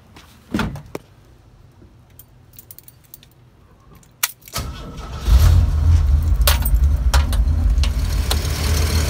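A Ford truck engine cranks and catches on a jump start, then settles into a loud, steady idle, preceded by a few sharp clicks and rattles.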